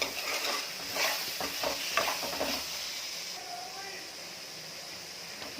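Egg fried rice being stirred and mixed in a hot pan with garam masala and pepper powder, loud scraping and sizzling bursts for the first few seconds that then settle into a softer steady sizzle.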